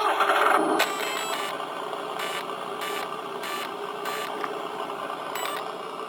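An electronic engine sound module in an Arrma Kraton 4s RC car plays a synthetic start-up followed by a steady idling drone with periodic pulses, loud and close throughout.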